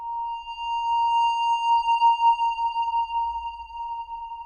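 Ambience effect turned all the way up in the Mononoke iOS music app: a steady, sustained drone tone with bright overtones rides over a low rumble, holding evenly throughout with no talking.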